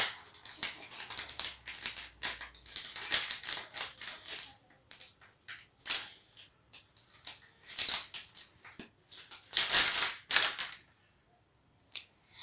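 A packet of muffin flour mix is being opened, giving close crinkling, tearing and rustling bursts that come and go irregularly, with no voices.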